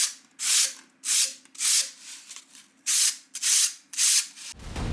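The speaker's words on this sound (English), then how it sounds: "texturing them with an aluminium wire brush" An aluminium wire brush scrubs texture into foam strips, a series of about eight separate hissing, scratchy strokes with short gaps between them, close and fairly loud, ending in a soft knock.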